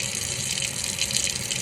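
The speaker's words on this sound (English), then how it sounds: "don't turn off the faucet yet" A faucet runs continuously in a health care hand-hygiene setting, water splashing close and steadily into a sink with no talking.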